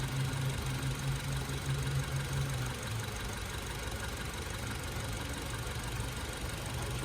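A 2015 Honda Civic engine idles steadily while warming up after a coolant flush, a low continuous hum with a faint knocking texture, heard alone at moderate level.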